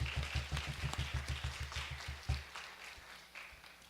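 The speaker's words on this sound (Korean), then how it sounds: "박수 한번 하겠습니다." A church congregation claps together in a fast, even rhythm for a couple of seconds, then the clapping breaks into scattered applause and room noise during a Sunday worship service.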